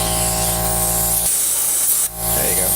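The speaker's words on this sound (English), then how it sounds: "then you just hit it with the air compressor." Air compressor nozzle blasting air onto a nut on an old Sears Craftsman sander during restoration, a loud, steady close hiss that cuts off briefly near the end before resuming.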